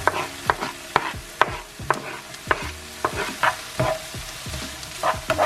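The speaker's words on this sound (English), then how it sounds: "I'm just going to add in my garlic for another 2 minutes and let that cook through" Garlic frying in a pan for a vegetarian shepherd's pie, a steady sizzle broken by repeated sharp scraping stirs of a utensil, close and fairly loud with no talking.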